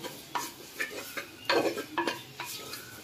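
Holy basil leaves being stirred in a metal pan with a spoon, a run of light scraping and clinking strokes at an irregular rhythm, close and fairly quiet.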